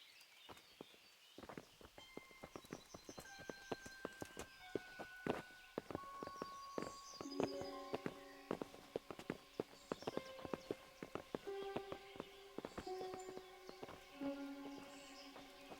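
Horses' hooves clip-clop in the medieval video game Kingdom Come: Deliverance, a run of crisp, uneven knocking steps that walk along under a soft melodic score. The steps are moderately close, with no talking over them.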